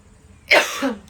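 A single close, harsh cough, short and loud, rising out of near silence and trailing off quickly.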